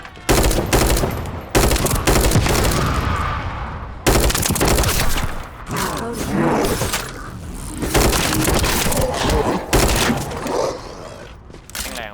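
Loud, dense gunfire from the shooter game The First Descendant: rapid automatic bursts broken by heavier shots and impacts, almost continuous and close.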